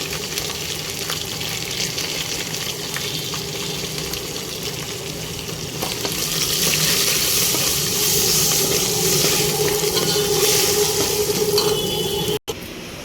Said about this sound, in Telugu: కొత్తిమీర కూడా వేగిపోయింది కదా చిక్కడి పసుపు వేసి